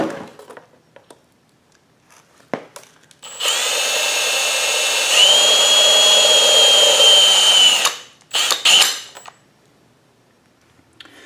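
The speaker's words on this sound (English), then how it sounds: "I'll go ahead and drill the rest of these" A power drill whines steadily for several seconds while drilling holes in an RC bumper, then stops, followed by a few short bursts and clatter.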